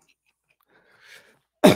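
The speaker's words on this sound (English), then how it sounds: "So now I'm coughing up stuff in my lungs now." A single sharp cough bursts out near the end after a faint breathy sound, close and fairly loud against otherwise near silence.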